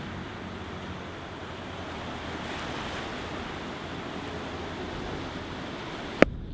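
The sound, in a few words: floodwater flowing over the Goshen Pond spillway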